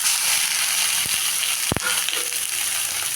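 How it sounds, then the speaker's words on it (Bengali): Chicken pieces dropped into hot oil and spice paste in a pan for curry leaf chicken, giving a steady close sizzle with a sharp burst as they hit, then continuous frying crackle with no talk. "এখন দিয়ে দিলাম চিকেনটা।"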